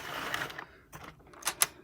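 A digital row counter on a Sentro knitting machine clicks in a few quiet, irregular mechanical ticks and rattles as the crank turns slowly, close up and fairly faint.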